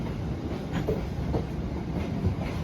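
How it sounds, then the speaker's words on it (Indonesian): Cikuray passenger train departing Bandung station at night, a steady low rumble of rolling wagons with faint clickety-clack of wheels, continuous and fairly near, no voices. "Kereta api Cikuray berangkat stasiun Bandung."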